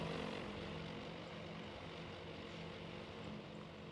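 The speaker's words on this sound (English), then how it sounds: "I hear other fighter engines, I think, so I think they do have combat air patrol nearby." Fighter plane engines in the Task Force Admiral carrier-battle game, a steady droning propeller roar that holds constant and fairly loud throughout, with no voices over it.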